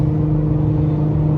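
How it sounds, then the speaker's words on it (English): A catless Nissan GTR with a 4-inch straight pipe exhaust and 5-inch titanium tips drones loudly from inside the cabin, a steady low engine hum with a turbo whir layered on top, no voices. "Lots of turbo noise, which is a huge plus."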